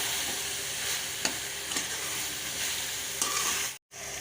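Keema with cumin powder and garam masala being stirred and roasted in a pan, a steady close sizzle with a few spatula scrapes and clacks, no talk.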